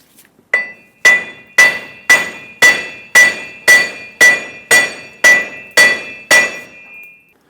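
A hammer taps a wheel bearing out of a 2003-2009 Dodge Ram 2500 axle hub, giving about a dozen evenly spaced, ringing metallic strikes, loud and close with no voices.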